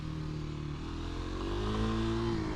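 Kawasaki KLX 300 dual sport motorcycle engine running and revving up nearby, a continuous throaty drone rising in pitch as it accelerates.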